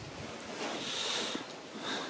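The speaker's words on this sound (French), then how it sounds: "Parce que là, il pleut pour de vrai." Rain falling on a campsite during a motorcycle trip, a steady broadband hiss with gusty swells, close and continuous, no voices.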